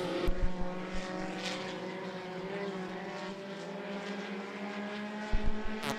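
Front-wheel-drive race cars in a heat race at I-75 Raceway drone steadily through a turn in a loud, sustained engine roar, with harsher bursts near the start and end as the field passes close.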